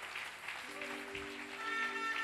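A church congregation applauds and acclaims the Lord during a mountain prayer gathering on Independence Day. The clapping is a steady, dense wash held throughout, with sustained musical tones running beneath it.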